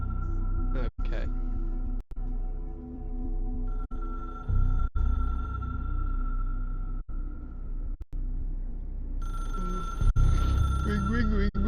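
A telephone rings in the video game Control, a steady repeating electronic ring that holds over low rumbling game ambience for the whole stretch, briefly cut by short gaps.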